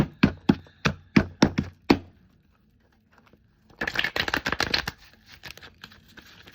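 Tarot cards being shuffled by hand: about seven crisp, evenly spaced taps, a short pause, then a dense riffling flutter that trails off into a few light shuffles, close and clear with no talking.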